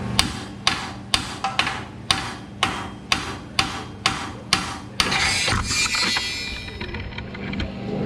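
A hammer strikes a car suspension part near tubular control arms and drop spindles, about nine sharp, evenly spaced close metallic blows, followed by clattering as the part comes loose.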